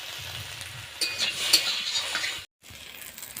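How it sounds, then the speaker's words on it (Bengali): Garlic lightly frying in a pan gives a soft sizzle, with a scrape and a clink of a utensil midway, fairly quiet and close, and a brief silent cut near the end. "একটু ভেজে নেব হালকা।"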